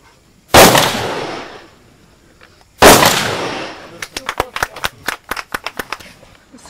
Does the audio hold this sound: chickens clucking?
no